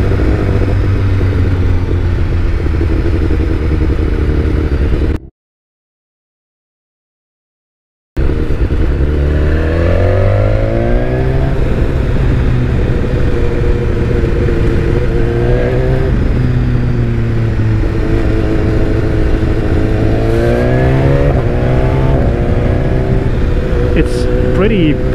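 A BMW S1000XR motorcycle fitted with an Akrapovic exhaust, set in dynamic mode, roars up close. A loud, steady engine drone climbs in rising revs, with a brief silent gap early on.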